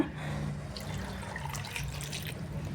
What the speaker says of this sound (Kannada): ಈಗ ಸ್ವಲ್ಪ ನೀರು ಹಾಕ್ಕೊಳ್ಳೋಣ